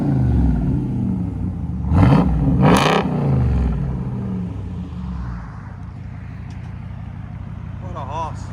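A 2022 RAM Power Wagon's 6.4L HEMI V8 with straight-pipe exhaust rumbles at idle, then revs loudly twice in quick succession before settling back to a deep burble, heard close up with people talking.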